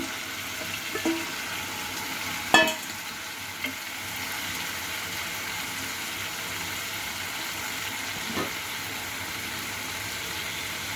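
Fried potatoes being stirred into a bitter gourd and potato curry cooking in spiced masala, a soft steady sizzle with a sharp clatter of a spoon early on and a few lighter knocks later.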